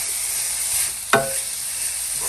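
Borsch vegetables with beets sautéing in a pot while being mixed together, a steady low sizzle with stirring and one sharp clack of a utensil against the pan, close and without talking.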